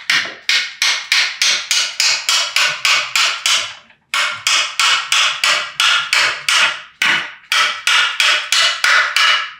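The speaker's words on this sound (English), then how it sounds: "you take your hammer and you hit it." A hammer knocks a wooden loom beam into place, a steady run of sharp, close knocks at a quick even rhythm with two brief pauses, loud and without speech.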